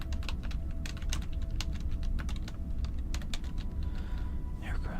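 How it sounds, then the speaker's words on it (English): Typing on a computer keyboard, with rapid irregular key clicks running steadily over a low background hum at close range. "I was busy unplugging my keyboard so I could type on it"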